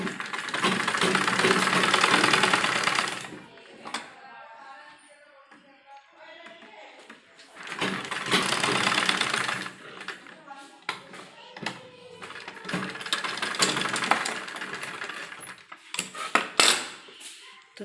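A sewing machine stitches cloth for a baby frock in three loud, steady runs of rapid whirring, with quieter gaps of fabric handling between bursts.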